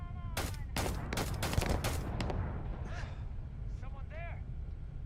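Rapid gunshots in Starfield, a quick string of sharp cracks close together followed by a few scattered shots, with someone talking and softer background game sounds after the burst.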